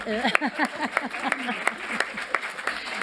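An audience at a general assembly claps in scattered, sharp bursts of applause, while a voice keeps talking over the hands throughout.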